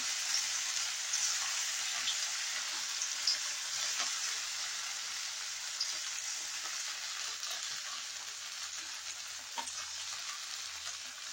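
Chilli idli pieces fry in plenty of hot oil, a steady bright sizzle that keeps on evenly throughout with small crackles, no voices.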